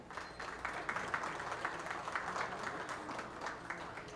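Spectators at a county fair open beef cattle show clap in a steady, moderately dense round of applause, somewhat distant and even, with a little background murmur.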